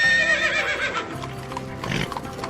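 A horse neighs loudly with a shrill whinny, and hooves clip-clop in a galloping rhythm, used as a close, clear sound effect in a story.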